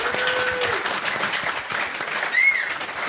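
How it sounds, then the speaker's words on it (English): Audience applause at a talk on accounting and business structure, a steady bed of clapping for Rod lasting a few seconds at moderate distance. "So can we get a round of applause for Rod for doing that?"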